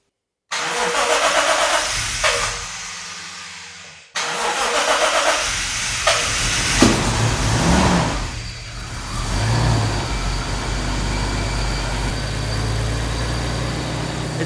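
A Toyota Mark II GX100 with a newly installed turbo and a single muffler cranks and fires up, then settles into a steady, fairly quiet idle with a few light revs. The sound is close by and no one speaks.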